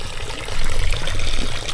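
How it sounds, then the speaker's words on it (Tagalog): Cold mountain stream on Mount Barundon in Porac, Pampanga, trickling and splashing close by in a short, steady burst of rushing water, with no voices over it. "Yun, may tubig dito."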